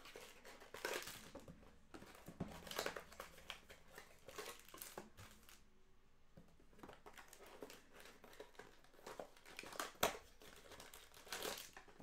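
A foil wrapper of a 2023 Mosaic football card pack being cut open, with steady close crinkling and crumpling that continues with a few sharper rustles and a brief quieter gap, faint and without talk.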